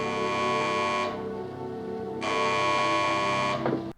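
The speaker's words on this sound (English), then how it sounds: "I hated the sound of the phone ringing." Buzzer-like telephone ring in the 1963 film Charade, two long harsh tonal bursts separated by a short pause, loud and close with no talk.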